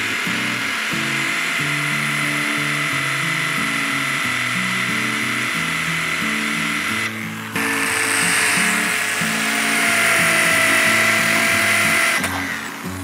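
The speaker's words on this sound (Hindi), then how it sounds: "इस पॉइंट पे अब हम इसमें ड्रिल बिट से होल करेंगे" A power drill bit bores holes into a coconut shell, a loud, close, steady whine with a grinding buzz that pauses briefly and then resumes.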